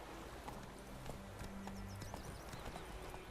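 Horse hooves trotting in The Witcher 3 video game, a steady clip-clop rhythm, faint and continuous over game background sound.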